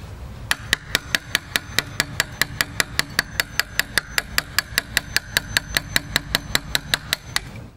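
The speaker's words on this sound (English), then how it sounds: "last little bits out with the chisel this way" Steady tapping of a hammer or mallet on a chisel cleaning out a wooden door hinge recess, about thirty sharp, evenly spaced knocks at close range over a low background hum, with no talking.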